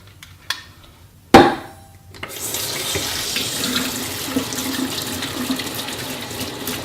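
Kitchen tap turned on for handwashing before cooking sweet potato pie, a few clunks and a sharp knock, then a steady hiss of running water that continues on its own.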